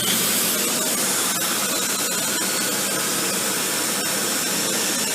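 A Dyson Cinetic Big Ball Animal vacuum cleaner runs steadily on deep pile carpet about an inch long, giving a loud, continuous broadband whoosh and hiss with its brush roll spinning, close up and without talk.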